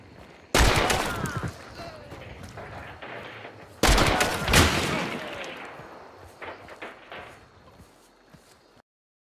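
Gunfire in the video game Hunt: Showdown, two sharp, loud shots followed by echoing rattles and trailing reverberation, with scattered smaller reports after them.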